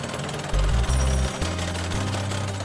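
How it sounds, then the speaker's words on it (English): Heavy machinery drives 7-metre piles into a riverbed toward the clay base for a cofferdam at the Darley Abbey fish pass, giving a loud, continuous low pounding rumble with slight shifts in rhythm throughout. "drilling in 7-metre long piles to reach the clay base and seal off the flow"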